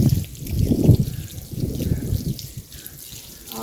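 Water is poured and splashed over a charpai to rinse off detergent, coming as close, uneven gushes and trickles in several bursts.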